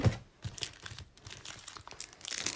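A football card pack's foil wrapper crinkles and crackles as it is torn open, close and continuous over a couple of seconds, with no talking.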